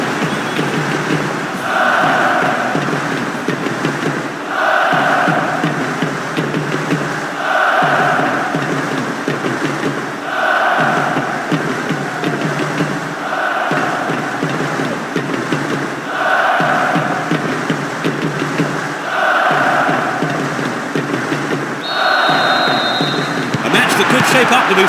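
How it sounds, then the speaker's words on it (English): Stadium crowd noise from the PES 6 football video game at a World Cup group stage match, a continuous roar with rhythmic swelling chants repeating every few seconds under a commentator's voice. "Supporters of both teams are creating a tremendous atmosphere in the stadium for this group stage match"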